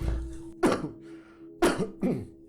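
A person coughs three times in short, harsh bursts close to the microphone, with quiet pauses between them, in an indoor conversation setting.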